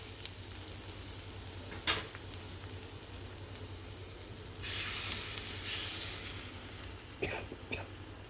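Eggs go into a frying egg curry masala, with a faint steady sizzle, a couple of sharp clinks, and a brief louder hiss burst partway through.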